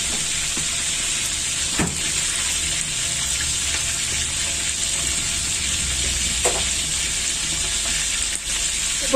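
Rabbitfish frying in a pan, a loud, steady sizzle with bubbling oil, a high hiss throughout and a few sharper pops and spatters.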